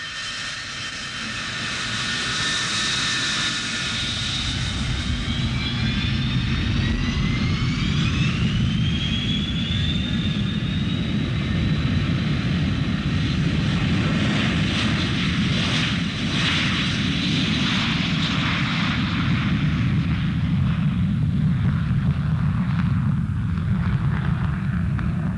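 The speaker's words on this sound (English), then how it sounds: "In this case, a Boeing 707 takes off ahead." A Boeing 707 jet airliner takes off nearby, a loud sustained roar with rising turbine whine that swells and holds steady throughout, heard from a waiting aircraft's cockpit.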